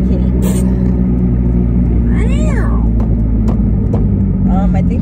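A cat meows inside a moving car, several rising and falling cries spaced over a few seconds above the constant loud road rumble, with people talking nearby.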